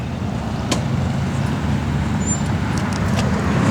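A 1966 Dodge Coronet 500 engine idles with a mild cam, giving a steady, loud low rumble with a faint lumpy pulse throughout and a few light clicks, with no talking.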